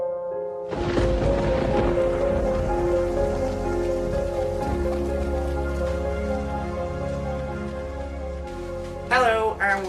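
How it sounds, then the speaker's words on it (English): Rain pours down heavily and steadily beneath a sustained tonal background, with a voice briefly speaking near the end. "There's so much rain."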